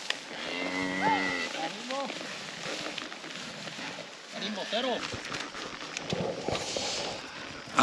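Cows and their calves moo repeatedly on a ranch estancia in Paraguay, several loud nearby lows with harmonic calls spread across the clip, mixed with shuffling and someone speaking French in between.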